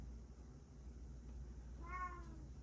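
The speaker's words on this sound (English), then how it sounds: "if you heard that yowl in the background, that's my" A cat yowls once, briefly and faintly, in the background of a quiet room with a low steady hum.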